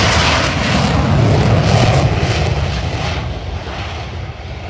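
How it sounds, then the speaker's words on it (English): A Lockheed Martin F-35B fighter jet at an airshow, a loud, sustained roar of jet engine noise filling the air, steady and close before gradually fading slightly. "F-35 is a multi-role aircraft produced by Lockheed Martin"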